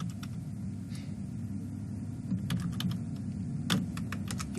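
Typing code on a computer keyboard, with clusters of quick key clicks over a steady low room rumble, a few sharper strikes standing out near the end.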